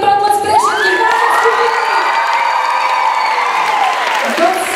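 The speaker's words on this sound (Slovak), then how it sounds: "Veľký potlesk pre všetky vaše" A crowd of fans at a K-pop showcase event cheers and screams in one sustained, loud wave of high-pitched shouting and whooping, with some applause mixed into the roar.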